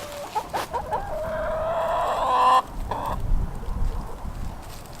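Hens out in the sunshine on a farm give a few sharp clucks, then a long, loud, drawn-out crowing call, with softer clucking after it and no talking.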